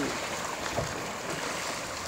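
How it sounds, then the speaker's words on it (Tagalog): Sea waves at the Dammam Corniche, growing rougher, wash as a continuous broadband rush of water, close and steady with no distinct breaks. "lumalakas ang alon mga katrupa"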